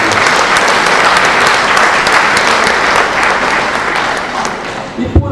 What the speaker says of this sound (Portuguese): Uma salva de palmas para a dona Leide.